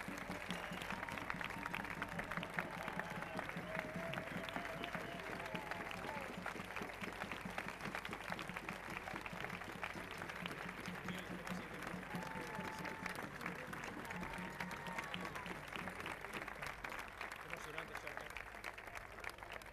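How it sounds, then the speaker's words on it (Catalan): A large crowd applauds steadily and continuously, a dense wash of clapping that holds at an even level throughout. "la Tonina Siquier, que demano aquest fort aplaudiment"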